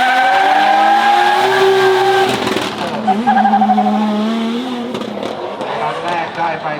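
Z32 300ZX (Safiro) drift car with a big turbo Toyota JZ engine, revving hard with rising and falling pitch. Tires squeal as it slides, loud and close, with voices in the background.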